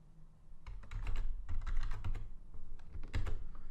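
A password being typed on a computer keyboard: a quick, irregular run of close, crisp key clicks lasting a few seconds, with no voices.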